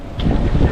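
Strong wind buffets the microphone at the Pililla windmills in the Rizal countryside, a steady low roar that swells and gusts across the whole brief moment.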